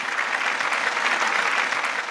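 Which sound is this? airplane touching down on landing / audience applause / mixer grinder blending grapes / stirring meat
audience applause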